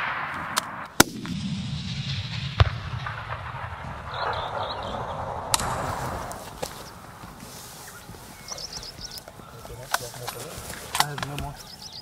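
A single sharp rifle shot cracks close by near the start of an eland hunt, its report rolling away across open bush. Quiet outdoor ambience follows, with people talking softly.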